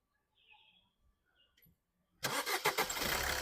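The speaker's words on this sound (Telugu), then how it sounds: "ఇంజన్ కూడా స్టార్ట్ చేసి చూపిస్తాను." A 2017 Maruti Suzuki Ciaz Zeta diesel car cranks and fires on the first try after a few quiet clicks and shuffles, then settles into a loud, rough diesel idle close by.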